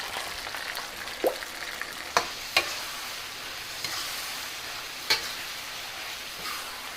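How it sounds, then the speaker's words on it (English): Beef and sauce stirred in a hot pan, a steady low sizzle with a few scattered clicks and scrapes of the utensil against the pan, fairly quiet and close, no talking. "after I give it a quick stir around."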